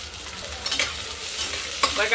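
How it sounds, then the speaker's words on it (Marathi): Beans and potato sauté in a pan as a spoon stirs them, giving a short burst of steady sizzling with a couple of scraping strokes, close up with no talking. "आणि बीन्स 1 मिनिटभर परतून घेऊ।"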